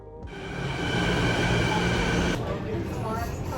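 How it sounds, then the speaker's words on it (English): A Vancouver SkyTrain carriage hums and rumbles steadily during a ride, with a constant rolling drone and high motor whine that shifts partway through; voices may be faintly present underneath. "When we arrived in Vancouver, we took the SkyTrain into town"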